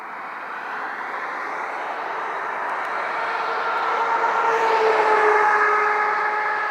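Low-flying Southwest Airlines jet approaching to land, a broad steady roar that swells gradually louder over several seconds as it passes close overhead, with no talking.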